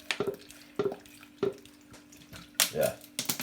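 Water poured into a blender jar while making Caribbean juice, heard as a run of short splashy pours and drips with a faint hum underneath, a few separate bursts close to the mic.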